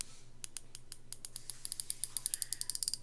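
A Wurth ratchet, a fine-tooth set of about 72 teeth, clicks crisply as it is turned, in a quick run of sharp close ticks that speeds into a dense burst near the end, with no talk.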